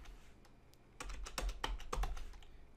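Someone typing an IP address on a computer keyboard, a quick burst of close, crisp key clicks that grows busier after a brief pause, in a quiet room.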